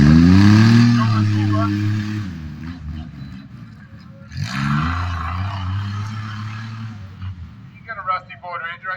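Tuff truck racing at a county fair in Dover-Foxcroft, Maine, with engines revving hard in two loud surges that rise and fade, a crowd and announcer voices mixed in and louder near the end.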